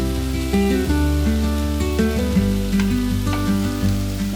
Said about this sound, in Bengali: গাজর কুচি, মটরশুঁটি, ভুট্টার দানা দিয়ে আমি একটু ভালো করে নাড়াচাড়া করে নিলাম।